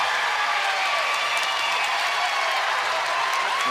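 Crowd of baseball fans at a Little League World Series game standing and applauding from the hillside seats, a broad, steady roar of clapping and cheering heard at a distance, continuous and even throughout.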